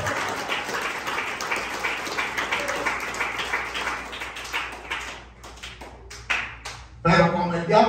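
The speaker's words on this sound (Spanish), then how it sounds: "Dale un aplauso a Jesús." A church congregation applauds in a dense, steady wash of clapping that thins and fades, followed by a few scattered claps and a louder burst of sound at the end.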